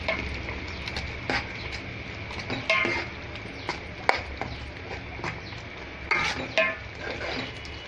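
A spoon stirring turmeric into softened tomato pickle in a pan, soft scraping and scattered metallic clinks against the pan over a low sizzle, moderately near, no voices.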